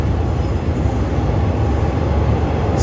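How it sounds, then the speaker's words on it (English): A train rumbles past at close range beside a stationary train leaving Bangkok, Thailand, a loud, continuous roar of wheels and rail noise that stays steady throughout with no voices. "we got another train going by right next to us."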